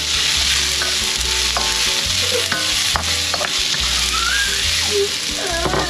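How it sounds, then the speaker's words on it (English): Ginger and garlic sauté in a pan for seal congee, a loud continuous sizzle with repeated scraping strokes of stirring close by and no talk. "Continue sauteing it until it will be cooked."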